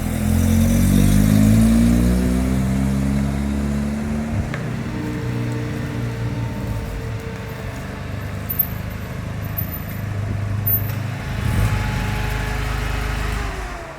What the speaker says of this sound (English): Marcus decided to take me for a spin in his 13V rotary turbo.